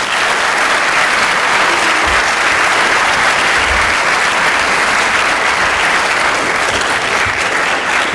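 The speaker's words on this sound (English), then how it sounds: "Please join me in a round of applause for all our presenters" Sustained applause from a symposium audience at a military post chapel event, a dense, steady clapping that holds at full strength for the whole stretch without pause.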